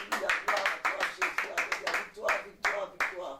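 A congregation claps in a steady rhythmic beat during a church worship service, about a dozen sharp claps close together and mixed with voices and acclamation.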